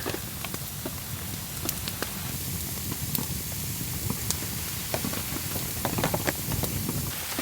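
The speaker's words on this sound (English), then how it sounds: "The campfire is absolutely raging." A campfire burns steadily at a rain-soaked campsite during a heavy storm, a dense, constant hiss and crackle with scattered sharp pops and snaps throughout, close by.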